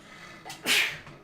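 A single sneeze from Necromancer Obadiah, a character in a Dark Souls III mod: a quick sharp intake of breath, then a loud, breathy burst up close, fading fast.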